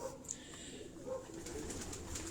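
Pigeons cooing inside a cage at a farm house loft of flying pigeons, soft repeated coos close by over steady background noise.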